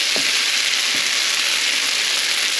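Shrimp and glass noodles sizzle hard in a hot pan, a loud continuous frying hiss with a couple of soft stirring bumps near the start and no voices.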